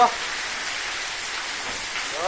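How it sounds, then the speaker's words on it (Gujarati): Steady, loud hiss of rain pouring down close by in Mevasa village, a continuous dense wash of drops. "જો કેવો વરસાદ આવે"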